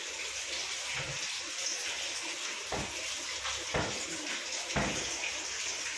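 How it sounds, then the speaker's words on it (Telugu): Water gushes and splashes steadily out of a flooded house, like a tap or drain running, with a few dull thumps scattered through. "నీళ్ళు బయటకు వస్తున్నాయి మొత్తం"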